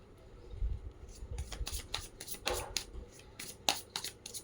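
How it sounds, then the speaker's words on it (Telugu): A deck of playing cards is shuffled by hand during a card reading, giving a series of quick riffling, flicking bursts with short pauses between them, close and fairly quiet with no talking. "last shuffle"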